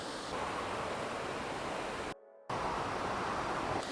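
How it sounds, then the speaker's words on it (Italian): A mountain waterfall in Friuli roars with steady, broadband rushing water, close and continuous, briefly cut out for a fraction of a second before resuming. "Sa per caso se questa cascata ha un nome"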